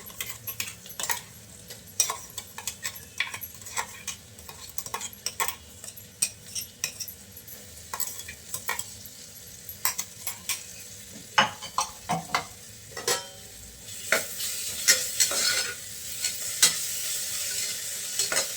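Ground masala paste fries in a pan over sautéed onions for tomato pea pulao, a soft sizzle broken by frequent rhythmic scraping and clinking of a spoon against the pan, no talking.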